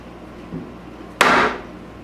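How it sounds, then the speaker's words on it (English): A single sharp knock of a dead blow mallet setting dowel points into a wooden cabinet part in a woodworking shop, close and fairly loud, with a faint softer tap shortly before it. "So I've got to set the dowel points and do that with a dead blow mallet."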